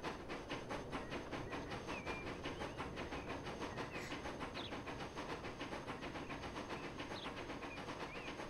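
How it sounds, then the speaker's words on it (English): A train speeds up in the Transport Fever 2 game with a faint, steady rhythmic clatter and hiss, quiet and even throughout, with no voices over it. "the train has pretty good power, so it's going to get up to speed long before it even gets to the bridges"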